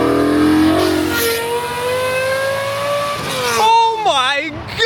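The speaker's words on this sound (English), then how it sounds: "Last episode, we finished up the exhaust system and it sounded" V10-swapped Lincoln Continental engine revving loudly and close through a newly finished exhaust, the pitch sliding down slowly before a fresh blip, with an excited voice exclaiming near the end.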